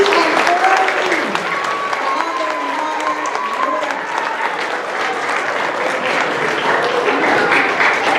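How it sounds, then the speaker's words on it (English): Enthusiastic applause for school classes at a school African American history program, a loud crowd clapping throughout with cheering and voices mixed in. "Let's give another round of applause to 2C"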